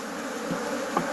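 Honey bees humming in a steady, dense drone during a hive inspection while they draw out comb, close and continuous with no pauses or voices.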